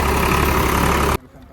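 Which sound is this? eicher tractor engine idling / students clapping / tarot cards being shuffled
eicher tractor engine idling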